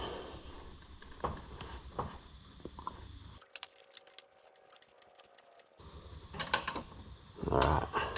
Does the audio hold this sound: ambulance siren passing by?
no